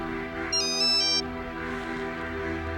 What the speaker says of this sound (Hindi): आप कॉल रिसीव क्यों नहीं कर रहे?